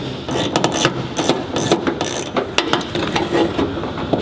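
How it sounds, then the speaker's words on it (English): A hand ratchet clicks rapidly and steadily up close, loosening a 10 mm nut on a hood vent of a 2023 Toyota Tundra TRD Pro, a dense run of loud metallic ratcheting with no talking. "right back here is the 10 mil bolt, or 10 mil nut. So we're going to break that loose."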